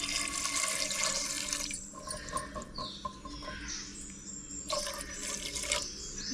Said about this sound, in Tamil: குக்கரில் முங்குற அளவுக்கு தண்ணி ஊற்றிக்கலாம்